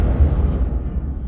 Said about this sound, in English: I've got this whoosh effect that goes into like the bridges.